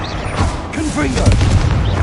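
A Confringo blasting spell going off in Hogwarts Legacy: a loud, close burst of booming impact amid busy combat noise, with brief vocal sounds underneath.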